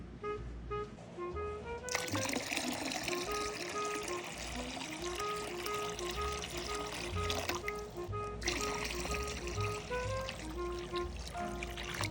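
Water trickles and splashes continuously from a solar fountain water feature fitted with a copper disk, a steady close stream with bright dripping tones.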